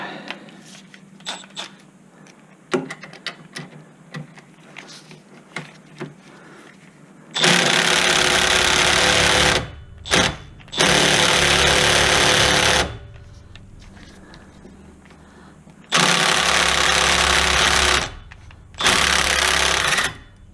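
A cordless power tool backs a bolt out of a Chevy Malibu during front bearing work, sounding in loud close bursts of rattling impact hammering, four separate runs with quiet gaps and small clinks between them.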